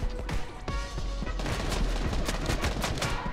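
Video game gunfire fills the scene with dense, rapid bursts and heavy overlapping shots that run continuously and loudly, close up, with no talk over them.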